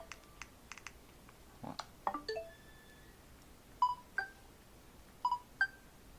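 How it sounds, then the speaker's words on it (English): Short electronic beeps and clicks from a Nintendo Switch 2 console during unboxing, a few single tones followed by paired double beeps, quiet and close with light handling clicks and no talking. "Oh, 2 beeps instead of 1."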